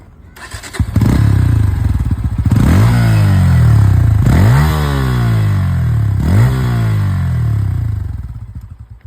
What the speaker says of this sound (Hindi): भाई ने अगर एग्जॉस्ट की बात करें तो हम एक बार इसका एग्जॉस्ट सुनाई देते हैं।